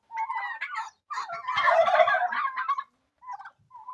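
Male turkeys on a farm gobble loudly in rapid, warbling bursts, one long run of overlapping calls in the middle and shorter gobbles before and after, close and clear with no talk.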